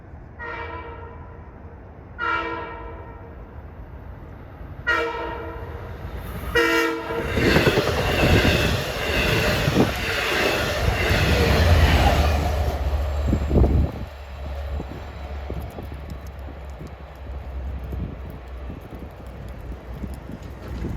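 Diesel train 2709, bound from Montauk to Jamaica, sounds several separate horn blasts and then rumbles past close by with rising clatter of wheels over rail joints before fading off into the distance.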